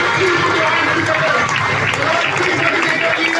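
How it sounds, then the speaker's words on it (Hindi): Dense crowd applause fills the hall at a marketing company's gathering in Kalyan as team coordinators are welcomed, a loud, continuous wash of clapping with voices mixed in. "आपकी जोरदार तालियों के साथ हम स्वागत करेंगे ऑल टीम कोऑर्डिनेटर लीडर"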